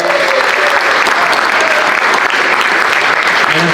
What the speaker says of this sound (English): I absolutely love the golf clap.